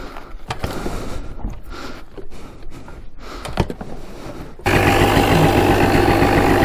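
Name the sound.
Honda ATC 250R engine idling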